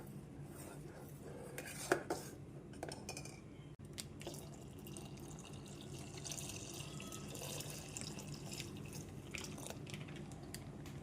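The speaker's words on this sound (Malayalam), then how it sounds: "ഇനി നമുക്ക് അതിലേക്ക് പാലൊഴിക്കാം" Milk poured into cooked semolina for a payasam, Ernakulam-style thari payasam, a steady liquid pour and trickle with light clinks of utensils against a pot, moderately close throughout.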